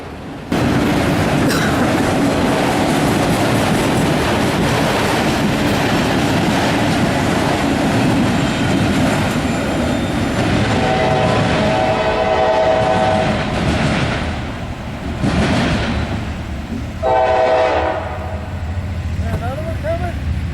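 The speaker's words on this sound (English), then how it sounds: "CSX then sent an eastbound intermodal train right on by us" A CSX eastbound intermodal freight train rolls past a railroad crossing on the former Baltimore and Ohio line, its loud steady rumble filling the scene while the horn sounds in a couple of blasts near the end; people talk over it.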